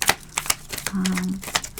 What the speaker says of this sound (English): There are too many cards for me to shuffle at once.